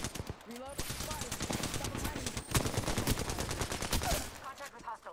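Rapid automatic gunfire in the video game Apex Legends rattles in dense bursts, loud and close, with brief pauses and overlapping shots, mixed with game sound effects.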